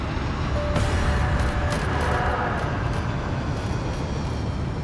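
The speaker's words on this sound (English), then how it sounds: "To prove it wasn't just one rogue engine, Waddell throttled up number 2." A Boeing 747 jet engine throttled up during a ground test, giving a loud, continuous roaring rush close by that holds steady for several seconds, with no talking.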